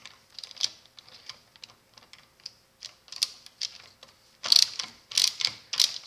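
A Craftsman Mach ratchet set to reverse gives quick bursts of close, crisp pawl clicks as its handle is turned, while the socket stays stuck. The bursts grow louder and denser near the end.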